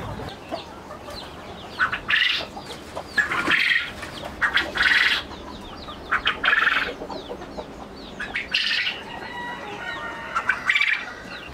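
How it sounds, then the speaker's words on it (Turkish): Exotic birds in a coop squawk in loud, harsh bursts, several close calls repeating at irregular intervals with quieter clucking and rustling between them. "Kümesimizde 2 tane egzotik kuşumuz var."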